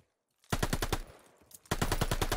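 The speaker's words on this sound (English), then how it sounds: "I just shot the fuck out of Ender" Automatic gunfire in a Call of Duty match, with two loud, rapid bursts of close shots separated by a brief pause, with no talking over them.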